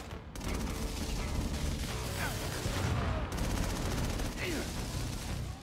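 Minigun fire in inFamous Second Son roars as a dense, unbroken stream of rapid shots with heavy rumbling impacts, loud and close, with faint voices underneath.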